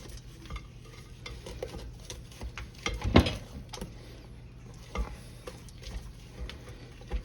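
A spatula scrapes cake batter down the sides of a mixing bowl in a home kitchen, producing soft, irregular swishes and taps with one louder knock near the middle.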